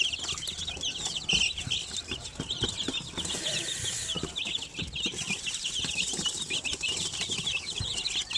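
Chicks and chickens on a poultry farm in hot weather, a dense continuous chorus of high peeping and clucking with bursts of wing flapping, close and busy throughout, no talking.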